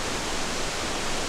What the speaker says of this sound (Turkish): Şimdi de Maral Şelalesi'ne geldik.